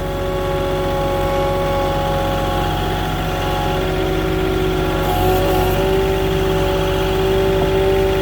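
A Moffett truck-mounted forklift engine runs steadily as it drives off-road on a hill while delivering lumber, a constant close mechanical drone with a slight rise in load toward the end.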